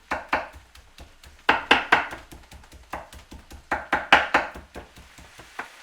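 A knife chops food on a cutting board in brisk, uneven bursts of sharp taps, fairly close and moderately quiet, with no talking.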